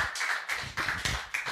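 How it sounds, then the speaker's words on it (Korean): Audience clapping to welcome a speaker at a Korean church worship gathering, a few loud bursts of hand claps swelling and dropping in quick waves. "큰 박수로 환영해 주세요."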